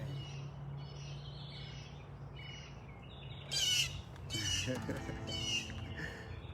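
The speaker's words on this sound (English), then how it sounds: "the birds are out today." Several birds call and chirp outdoors at a distance, with a louder burst of calls partway through over faint background noise.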